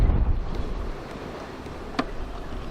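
Strong wind buffeting outdoors beside a Land Rover Discovery 2, a rough low rumble that gusts loudly at first then settles into a steadier roar.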